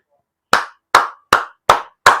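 A few hands clap five crisp, evenly spaced times, each a short sharp burst with silence between, in a Filipino political commentary setting.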